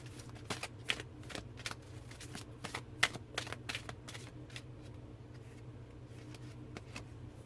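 Cards of a Tree Angel Oracle deck shuffled by hand, a quiet series of quick riffling snaps and flicks in uneven bursts, close and with no talking.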